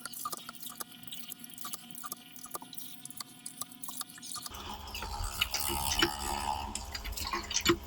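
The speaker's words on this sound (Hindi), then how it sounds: "दोस्तों फाइनली आप देखते हैं थोड़ा थोड़ा इसमें देखिए पानी आने लगा" A hand pump driven by a 775 DC motor water pump starts giving water. Sparse, light drips tick at first, then turn into a denser, steadier splashing trickle in the second half, heard up close.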